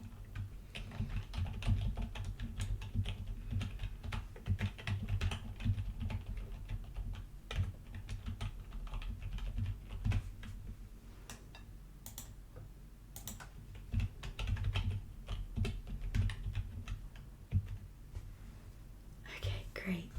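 Computer keyboard typing at a medical appointment desk, a steady run of soft clicks and taps close by, mixed with quiet whispered talk throughout.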